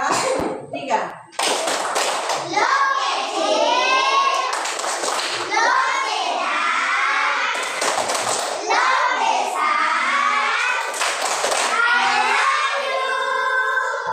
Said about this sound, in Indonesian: Sekarang kita yel-yel dahulu yaitu tepuk lo